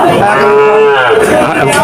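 A calf gives a loud, drawn-out moo close by at a cattle market, with voices and crowd chatter in the background.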